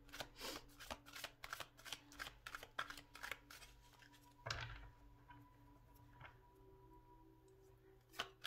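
Tarot cards are shuffled close up in a rapid run of crisp riffling and snapping, which then gives way to softer sliding and a few scattered taps. No one speaks.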